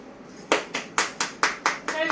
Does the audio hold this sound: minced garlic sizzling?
no